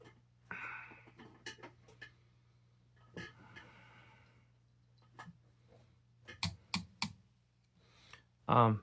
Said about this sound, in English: You're gonna body slam my keyboard.